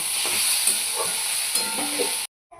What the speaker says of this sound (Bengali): ভালো করে নাড়িয়ে কম আঁচে এটাকে ভাজা ভাজা করে নেব